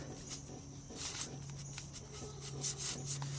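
Tire plug reamer worked back and forth into a puncture hole in a car tire, enlarging it past the steel belts, producing soft rubbing and scraping strokes, close and quiet, with no speech.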